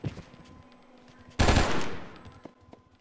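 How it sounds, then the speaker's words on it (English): A sudden loud burst of video game gunfire in the game Oni erupts mid-clip and rings out for about half a second, surrounded by quieter clicks and distant shots. "I hear gunshots."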